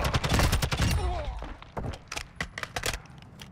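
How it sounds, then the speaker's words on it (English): Gunfire from the Call of Duty DMZ video game, a dense rattling volley up front that thins into scattered, sharper shots further back, with game effects mixed in. "You are taking effective fire."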